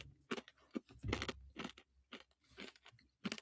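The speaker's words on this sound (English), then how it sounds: "Try and crunch in my cough drop here" Crisp, close crunching bursts of a hard cough drop being bitten and chewed, several irregular crunches with quiet gaps between them.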